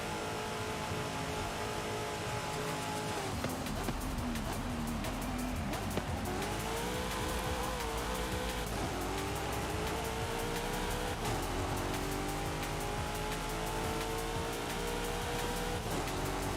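A car in Forza Horizon driven flat out, engine roaring continuously and loud with rising and falling pitch through gear changes, tires squealing at times, a dense unbroken racing drone throughout.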